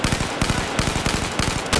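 A BB gun fires in a video game with a rapid, steady stream of sharp snapping shots, loud and close, rattling along without pause.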